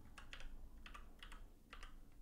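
Typing on a computer keyboard comes in short clusters of quick, faint key clicks, three small bursts spaced apart over a low steady room hum, with no talking.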